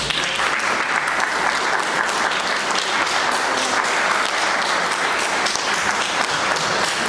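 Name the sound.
audience applauding the hospital staff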